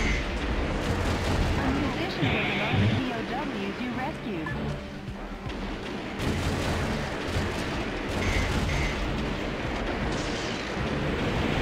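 Dense, continuous gunfire and blasts from the mech shooter game Metal Wolf Chaos, a loud, unbroken barrage of shots and explosions that runs the whole time, with a voice talking underneath.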